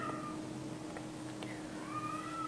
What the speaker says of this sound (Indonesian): itu adalah suara kucing saya yang mungkin sedang ingin kawin